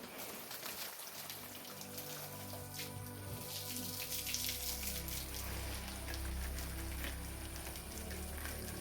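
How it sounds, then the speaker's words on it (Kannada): A steady, close spray of water patters and hisses across the leaves of balcony garden plants such as adeniums, continuous and even throughout with no talking. "ಗಿಡಗಳಿಗೆಲ್ಲ ನೀರು ಹಾಕೋದು ಈ ಥರ ಸ್ಪ್ರೇ ಮಾಡಿಕೊಳ್ತೇನೆ"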